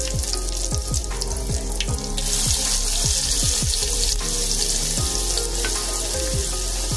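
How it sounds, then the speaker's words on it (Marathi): Curry leaves and chopped onion hitting hot oil that already holds asafoetida, a loud continuous sizzle and spatter with repeated stirring scrapes, up close and without talk. "त्यानंतर कढीपत्ता टाकून घेऊया, कांदा टाकून घेऊया"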